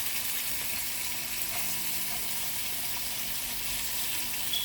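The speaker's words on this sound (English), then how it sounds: "And we leave it simmer here too for another 3 minutes" A lamb chop simmering in a pan, giving a steady, close hiss and crackle that runs evenly throughout with no talking.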